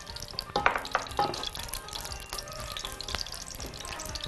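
Two spoonfuls of ghee hit a hot pot and sizzle softly and steadily, with a few sharp spoon clinks near the start.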